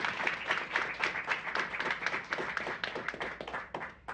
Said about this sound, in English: Those who believe yes, please applaud.